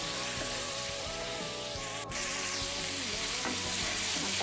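Goat blood nalla fry (mutton nalla fry) stirred in a pan over high flame, with a steady, continuous sizzle and frying crackle, plus a brief scrape of the spatula midway.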